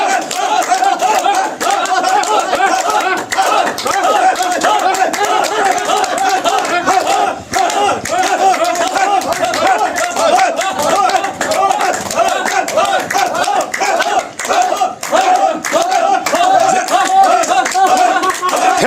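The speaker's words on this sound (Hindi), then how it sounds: "जरा सा कस करके बजाइए ताली, ताली बजाइए" An audience at a free yoga class in Barhi, India, claps together in sustained, loud rounds, with crowd noise and cheering mixed in throughout.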